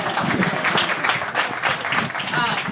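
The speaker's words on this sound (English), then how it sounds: "Give them another round of applause" Audience applauding at the Eastbrooke grand opening, honoring Beulah Baptist Church members; steady, dense clapping fills the whole stretch at close range with no break.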